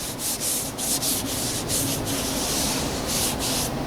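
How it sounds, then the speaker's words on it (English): A Volvo XC90 headlight lens is sanded with coarse P180 sandpaper: a loud, close, continuous rasping scrub with steady back-and-forth strokes and no talking. "basically I'm using a P180 sandpaper. Does seem a bit thick, but we really need to get this off."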